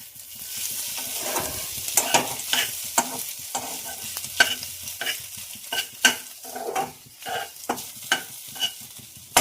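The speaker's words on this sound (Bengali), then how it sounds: "ভাজা ভাজা হচ্ছে" Food sizzles and fries in a pan on a home stove while a utensil stirs it repeatedly, producing steady crackling with frequent scraping strokes, close and alone without talk.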